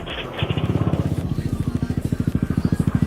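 A motorcycle engine with an aftermarket exhaust fitted with a 0.5 mm CMS baffle starts and settles into a deep, loping idle with rhythmic throbbing pulses from the loud exhaust, close by.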